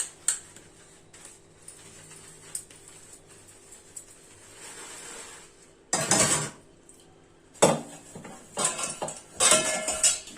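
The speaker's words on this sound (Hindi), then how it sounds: "इस प्रकार से आप फटाफट अपने बर्तन कर लेंगे" Dishes, pots and utensils clatter and clink in a kitchen sink, with quiet scattered taps early on and then loud bursts of scrubbing and rattling crockery near the mic.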